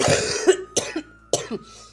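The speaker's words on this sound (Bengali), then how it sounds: "প্রচুর কাশি হয়েছে" A person with a heavy cough coughs three times in short bursts, close and fairly loud, with brief pauses between them.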